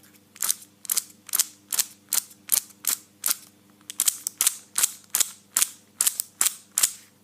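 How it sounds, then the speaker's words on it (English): A brand new Giiker smart cube turned close to a microphone, giving a quick series of sharp, rattly clacks, about seventeen evenly spaced turns in a row against a quiet background. "if I hold it up to the microphone you should be able to hear the noise that this makes"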